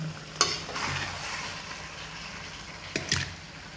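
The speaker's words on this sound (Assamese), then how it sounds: "এয়া মই কুকাৰত দি আছোঁ।" Goat meat is scraped and transferred into a pressure cooker, with a soft sizzling hiss underneath and two sharp metallic clanks of a spoon against the pot, one early and one later.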